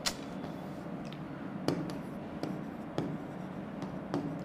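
A pen writes on paper in a math class, making soft scratchy strokes punctuated by sharp taps. It is close and quiet, and nobody speaks.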